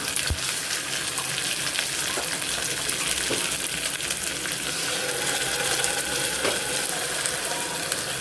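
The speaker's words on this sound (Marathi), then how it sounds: "आता हा मसाला जो आपण वाटलेला होता तो टाकून घेऊया" Ground masala tipped into hot oil with fried onions for a black-eyed bean usal, giving a steady close sizzle and crackle throughout, with faint stirring and no voices.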